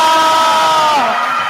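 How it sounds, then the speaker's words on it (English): Crowd at a netball game yelling and whooping after a goal, a loud, close, sustained roar of many voices throughout. "And the crowd goes wild."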